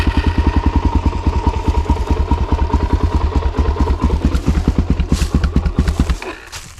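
A Suzuki DRZ400 dirt bike with an FMF slip-on exhaust thumps along in a steady, rhythmic single-cylinder idle up close, then sputters and dies abruptly just after six seconds, leaving near silence.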